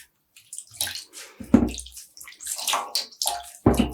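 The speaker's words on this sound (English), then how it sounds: "And I'm just picking up the yarn, squeezing out water just to not make a mess" Dyed mohair yarn, wet from the dye bath, squeezed by hand so water splashes and drips back down in a few short bursts, near and moderately loud, with no talking.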